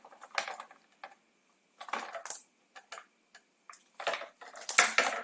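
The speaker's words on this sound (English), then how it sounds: "Grab our trusty crimpers." Crimpers squeeze wire connectors while wiring brake lights on a Can-Am Ryker, producing a handful of short, sharp clicks and snaps with quiet gaps between them.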